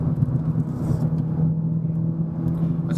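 Renault Sandero RS engine roaring while climbing a mountain road, a loud steady low rumble with a constant drone and slight revving swells throughout, no talking.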